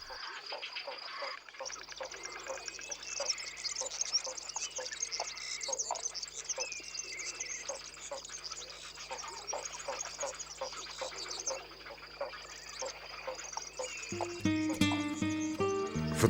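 Breeding colony of spoonbills, cattle egrets and egrets nesting in the Doñana marshes, a dense steady chatter of many birds calling at once, with a low continuous drone beneath and a burst of deeper tonal sound near the end.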